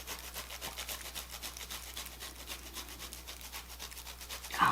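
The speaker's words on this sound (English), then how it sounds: "You do have to be careful using the grater. You can grate more than just the jerky." Shelf-stable beef jerky is scraped against a kitchen grater in a steady run of close, rhythmic rasping strokes that continues without break and without voices.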